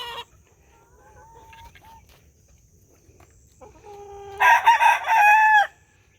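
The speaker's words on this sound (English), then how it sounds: "but since Philippe, this rooster is mean." A rooster crows loudly and close, preceded by a few softer clucks and short calls over a quiet background.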